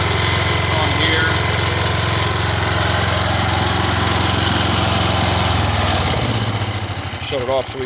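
The engine of a Wheel Horse Raider 10 lawn tractor, with a new deck belt fitted, idles loudly and steadily up close, then slows and winds down as it is shut off near the end.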